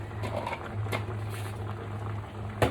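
Southern Thai sour curry with pineapple and canned fish comes to a boil in a pot, giving a soft continuous bubbling close by, with a small knock near the end and no talking.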